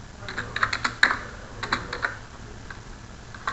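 Computer keyboard keys pressed while working in an Excel spreadsheet, a quick cluster of close, crisp clicks followed by a few sparser taps, with no talking.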